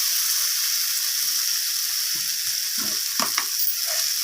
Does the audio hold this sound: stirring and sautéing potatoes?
yes